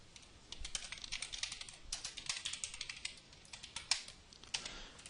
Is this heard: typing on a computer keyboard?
yes